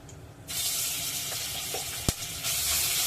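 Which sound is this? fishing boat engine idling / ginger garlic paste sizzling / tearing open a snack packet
ginger garlic paste sizzling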